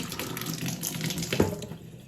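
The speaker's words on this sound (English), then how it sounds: "I'm going to run the Kangen water, okay, while it's on this screen." Water runs steadily from a Kangen water machine, a continuous close splashing stream like a tap filling a container, with no talking.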